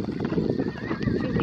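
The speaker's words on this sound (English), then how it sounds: "Look at that horse." Horse at a show, a wavering whinny rising over a dense background of crowd murmur and low rumble, brief and fairly close.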